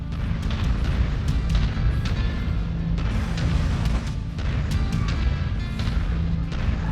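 Mech weapons in MechWarrior 5: Mercenaries keep firing, sharp cracks and booming shots landing in an irregular rapid rhythm over a heavy, rumbling low-end drone of machinery, loud and close for several seconds.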